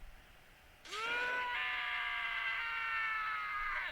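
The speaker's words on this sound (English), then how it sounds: "As Taka's sad screams invaded our skulls" A male character in the video game Danganronpa lets out a long, loud, wailing scream. It starts abruptly about a second in and holds, strained and sobbing, until the end, with no talk over it.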